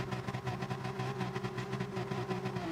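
Race car engines hold steady high revs on the starting grid at Spa-Francorchamps in a sim racing game, a dense continuous drone of several engines with a sustained tone and no talk.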